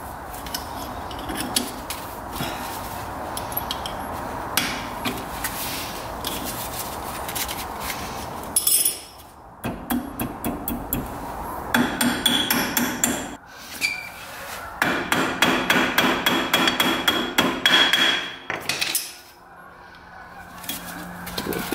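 Repeated metal hammer strikes on a stuck cotter pin under an ATV used for plowing, coming in sharp, uneven bursts of close, loud blows with brief pauses between.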